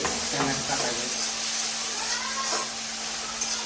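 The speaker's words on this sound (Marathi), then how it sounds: "आता आपला कांदा थोडाफार फ्राय झालेला आहे" Chopped onion frying in a pan for Marathi-style phodnicha bhaat, a steady soft sizzle and hiss running throughout with a constant faint hum beneath.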